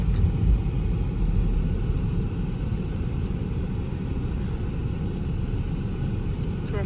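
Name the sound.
street traffic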